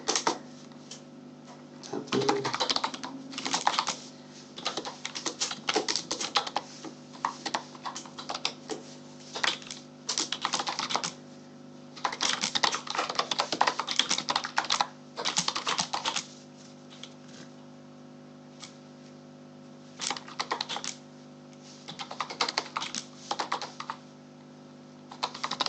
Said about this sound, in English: So if you just type freely here